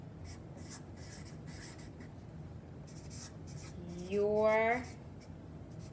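A black marker squeaks and rubs in short strokes across a wooden popsicle stick for a Father's Day craft, close and fairly quiet, with a voice briefly speaking near the end.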